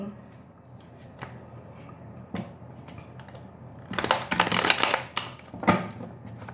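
A tarot card deck being shuffled, with quiet scattered card handling first and then a louder burst of riffling and slapping cards near the end.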